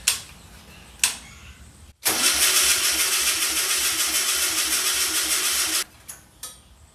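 Old VW Beetle engine, unstarted for over 25 years, gives two short cranking bursts, then cranks steadily and loudly for about four seconds before cutting off, followed by a couple of brief clicks and sputters.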